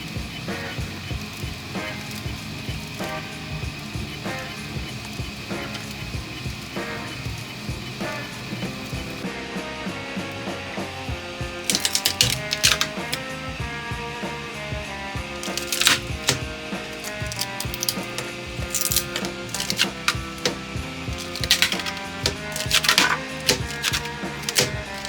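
3D printer printing PETG screen door parts with 20% infill and supports, a busy stream of rapid stepper whirs, clicks and ticking motion that turns sharper and more clattery partway through, running alone without talk.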